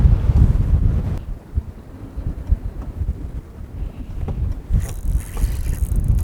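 Strong wind buffets a fishing boat out on the water during spring walleye fishing, a steady low roar and rumble with gusty microphone buffeting throughout, fairly loud and without speech.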